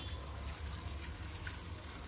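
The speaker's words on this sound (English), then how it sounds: "I will pour water till the maximum level" Water pours into a soup maker over chopped raw mango pieces in a soft, steady trickling splash, faint and close, with no talking.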